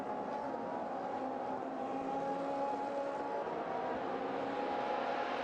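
Race cars in a Monza TrofeoPirelli race drive through the chicane, a steady distant engine drone that stays faint and even throughout, with no talking.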